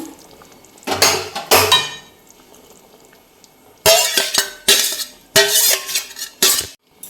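Pieces of hilsa fish and eggplant going into a cooking pot with potatoes, several loud clanks and scrapes of a utensil against the metal pot in separate bursts with quiet gaps between them, no speech.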